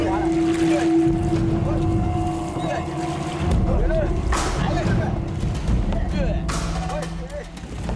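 A wooden boat paddled for a long day across open sea toward Larantuka, with steady water wash, wind buffeting and repeated splashy paddle strokes, close and loud, while voices talk underneath.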